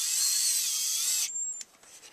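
Harbor Freight Warrior compact cordless screwdriver backing out a screw, a high, whining motor buzz lasting just over a second before cutting out, followed by a faint click and quiet.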